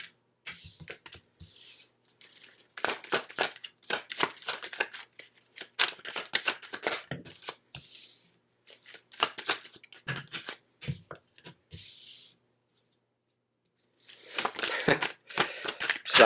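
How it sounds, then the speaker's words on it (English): Tarot cards being shuffled and pulled close up, quick papery riffles and flicks in irregular bursts separated by short quiet gaps, with no talking. "let me just pull some cards here"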